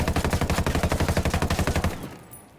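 An ACAR assault rifle fires a long sustained automatic burst in Ghost Recon Wildlands, rapid evenly spaced loud shots that end in a fading echo.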